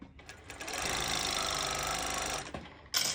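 A cover stitch sewing machine runs steadily while sewing a festival triangle top, a close mechanical whirring buzz that holds for a couple of seconds before stopping, followed by a brief rustle.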